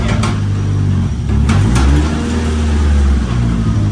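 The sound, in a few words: Nissan S15 engine revving in neutral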